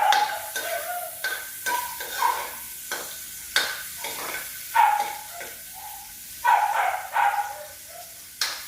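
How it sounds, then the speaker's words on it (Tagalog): Onion sautéing in oil in a pan gives off intermittent bursts of sizzling, broken up by stirring and scraping, at moderate volume and fairly close, with no talk. "I will gonna add a little bit of oil in the pan, and then I will gonna put first the onion. Saute it."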